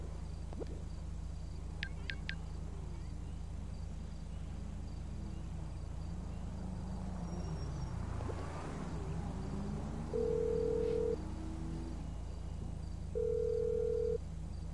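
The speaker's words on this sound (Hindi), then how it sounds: "फोन नहीं उठाया गया।" In the video game GTA 5, a phone rings out unanswered: two long, even ringback tones sound near the end over a low, steady background hum.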